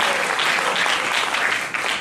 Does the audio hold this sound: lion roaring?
no